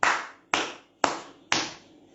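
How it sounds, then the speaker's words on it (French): A single person claps hands four times in an even, deliberate rhythm, each sharp clap close and distinct with short decay, with no other sound between. "j'applaudis."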